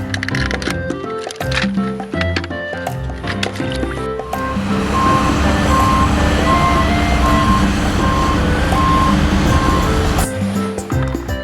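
A crane truck backs up with a steady, evenly spaced electronic reversing beep over a loud, rumbling engine and noisy surroundings, after a short burst of clattering sounds at the start.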